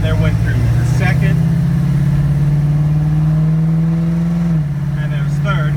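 A loud 1974 AMC Javelin fitted with a Borg Warner automatic and Super 44 mufflers holds a steady, droning engine note that dips in pitch near the end as it shifts into third on the road, with someone talking over the engine.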